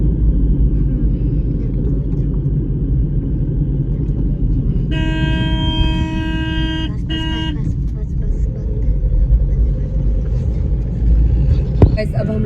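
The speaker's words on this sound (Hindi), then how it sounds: "तो गाइस ये देखना ट्रैफिक इतनी ज्यादा" Heavy road traffic gives a dense, continuous rumble of passing vehicles, broken by a sustained car horn toot in the middle and brief honks near the end, with voices faintly mixed in.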